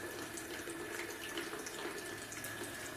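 Wort drains slowly from a mash tun during batch sparging for a pale ale, a faint, steady trickle and gurgle of liquid running continuously with no talking.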